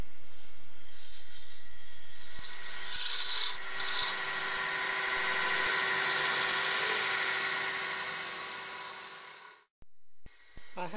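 A wooden candlestick turning on a lathe by a window, a continuous close rubbing, rasping cut with a motor hum beneath, stopping abruptly near the end before brief knocks.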